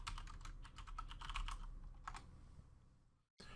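Fingers tap a phone's on-screen keyboard for a Play Store search in a quick, quiet run of clicks. A short second flurry follows, then a pause, a brief gap and a soft thump.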